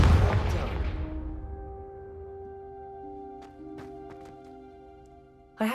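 Confringo blasting spell in Hogwarts Legacy: a loud fiery burst at the start that decays over about a second into a lingering hum, followed by soft clicks and a sharp sound at the very end.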